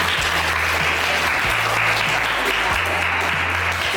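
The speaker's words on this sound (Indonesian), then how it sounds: "Tepuk tangan dulu." Sustained applause from a crowd, dense and steady clapping that fills the whole stretch at a fairly loud level, with a low hum underneath.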